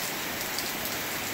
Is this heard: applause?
no